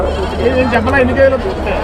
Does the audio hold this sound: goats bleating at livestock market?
yes